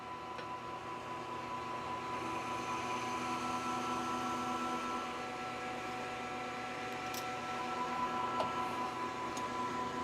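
A metal shaft is faced off for a CamMate jib repair, giving a steady, close mechanical whir with a faint tonal hum that runs continuously without pause.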